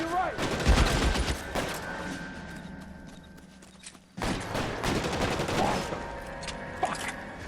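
Bursts of rapid machine-gun fire ring out in the video game L.A. Noire, heavy clattering volleys that pause briefly midway and then resume, mixed with scattered sharp cracks and some background clatter.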